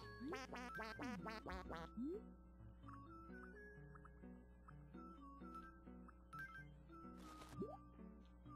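A duck villager in Animal Crossing: City Folk makes quick, chirpy synthetic babble calls in a rising and falling run, then shorter blips over soft game background music, with a final squawk near the end.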